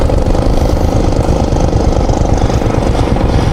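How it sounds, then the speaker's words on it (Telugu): A rock drilling machine works at a landslide repair site on a mountain road toward Manali. It makes a loud, continuous, rapidly pulsing mechanical rattle close at hand. "డ్రిల్ కొడుతురు కదా,"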